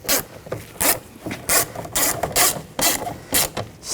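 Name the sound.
tightening screws on car window regulator bracket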